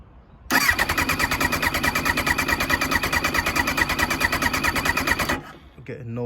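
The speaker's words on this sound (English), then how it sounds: "I'm gonna go for a crank with it open, see if any fuel comes through." Kawasaki Ninja ZX9R motorcycle engine cranking over on the starter with no fuel reaching it, a loud steady rapid whirring churn lasting about five seconds, close by, then stopping.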